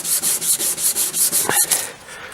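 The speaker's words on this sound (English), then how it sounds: "I'm going to wet sand with 240 grit" Car body filler on a 1970 VW Bus is wet sanded with 240 grit sandpaper, giving steady back-and-forth rasping strokes in an even rhythm, close and loud, before the scrubbing slows and fades.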